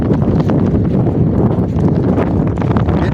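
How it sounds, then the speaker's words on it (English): Strong wind gusts across a hiking trail on the Pacific Crest Trail, a constant loud roaring buffet against the microphone with no pause. "It's windy."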